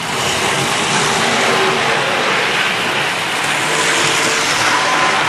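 Hornby Triang model trains with pre-profiled wheels rolling along the track, a steady, loud, continuous rushing rumble that holds unbroken throughout with no talk.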